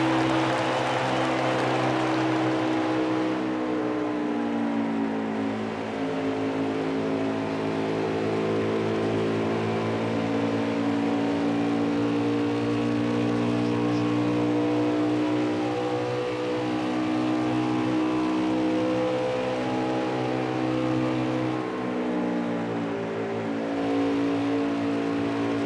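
Race car engine on an onboard lap at Auto Club, a loud steady drone held at high revs with rising and falling pitch through gear and throttle changes, close and continuous with no talking.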